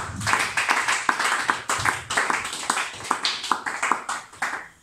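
A congregation at a church service claps rhythmically and steadily, with loud, close, repeated hand claps that continue throughout without any spoken words.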